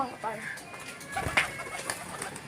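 Pigeons coo softly in short repeated phrases close by, mixed with faint background voices and scattered ambient noise.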